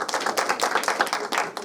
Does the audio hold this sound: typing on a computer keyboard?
no